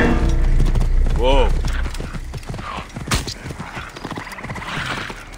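A horse in the video game Assassin's Creed Origins clip-clops along and lets out a clear whinny midway, while a player talks over the game sounds.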